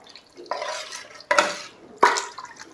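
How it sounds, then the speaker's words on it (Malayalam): Cooked beef and gravy being stirred in a pot for beef biryani, three distinct scraping, slopping strokes of a spoon against the pan, each starting sharply and fading, with quiet pauses between. "എല്ലാം കൂടി നന്നായിട്ടൊന്ന് ഇളക്കി യോജിപ്പിക്കുക"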